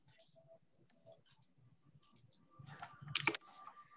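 Quiet typing on a computer keyboard during a programming class session, soft scattered key clicks that build to a brief louder burst, with faint talk in the background.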